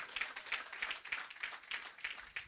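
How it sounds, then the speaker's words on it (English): A crowd at a Housing Agency of Jamaica 15th anniversary open day claps in steady, fairly loud rhythmic bursts for a couple of seconds, with no voices over it. "Clap yourself for being a Jamaican"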